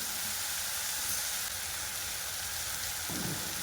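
Soy sauce hits a hot pan of street-style veg Hakka noodles, a dense steady sizzle and hiss that fills the short stretch at an even level, with a slight change in tone near the end.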